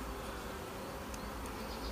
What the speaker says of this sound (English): Be careful of your fingers on the bees there.